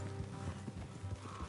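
Horse hooves clopping while riding in the video game Red Dead Redemption 2, a soft, rhythmic clip-clop heard faintly against a low background bed.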